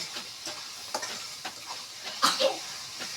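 Spice paste for a Bengali pangas fish curry being stirred and fried in a pan, with soft steady sizzling and light scraping strokes at a slow rhythm, a few louder clinks near the end.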